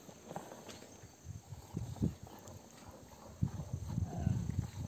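Horse hooves clip-clop at an irregular walking pace on a farm, faint and fairly close, with soft insect chirping in the quiet background.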